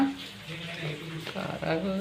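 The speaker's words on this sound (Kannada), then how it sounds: "ನಾವು ಸ್ವಲ್ಪ ತೊಳೆದೇ ಹಾಕ್ತೀವಿ ಮೆಣಸನ್ನು ಸ್ವಲ್ಪ ಧೂಳೆಲ್ಲ ಆಗಿರುತ್ತಾ ಅದಕ್ಕೋಸ್ಕರ" Dried red chillies being rinsed in water, with close splashing and sloshing that continues steadily while faint voices murmur in the background.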